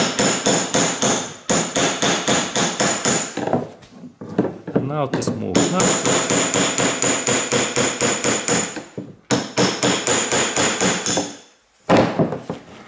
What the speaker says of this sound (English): and hammer it this way